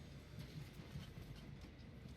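An oil train in the video game Train Valley 2 rolls along its rails with a steady low rumble and a soft rhythmic clatter. The sound is continuous and moderately quiet, with no voices over it.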